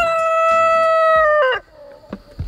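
A rooster on a homestead crows loudly and close in the morning, one long sustained call that cuts off, followed by a few soft clucks from chickens.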